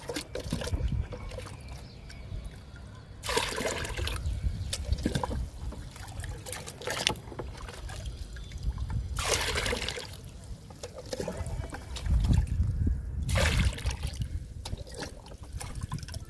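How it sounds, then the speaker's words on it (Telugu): Liquid pours and trickles in several bursts into a bucket of 18 litres of water, with quieter handling sounds in between. "మళ్ళీ 4 మొగ్గులు లిక్విడ్ పోద్దాము"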